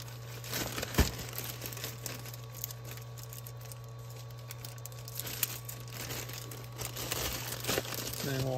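Items being slipped into a packing envelope, with soft crinkling and rustling of plastic or paper through the clip, a light thump near the start and faint background hum.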